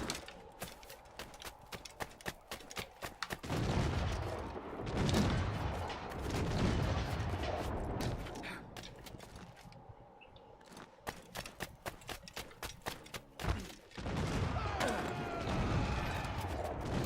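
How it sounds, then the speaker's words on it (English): Gunfire in Assassin's Creed IV: Black Flag sounds as scattered sharp cracks and pops of varying distance, mixed with thudding bursts and rumbling ambience, fairly quiet overall. "they're shooting at somebody"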